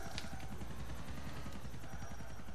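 A helicopter in Grand Theft Auto IV gives off a faint, steady rotor chop with rapid regular blade pulses and a thin whine, heard alone in the game without voices.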